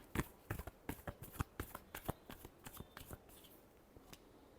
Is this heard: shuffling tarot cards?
yes